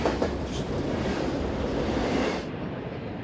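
A freight train on the RF&P line in Eastern Virginia, with refrigerator cars on the tail, rumbles steadily past at close range, a loud broadband roar that eases off near the end.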